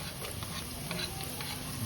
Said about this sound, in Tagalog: Ngayon, syempre yung bawang naman, lagay na natin yan.